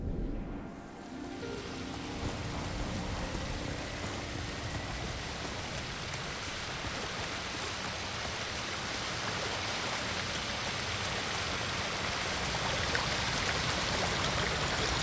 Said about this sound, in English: We can't get any closer to the waterfall.